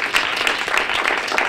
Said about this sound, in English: If we can give him a little round of applause.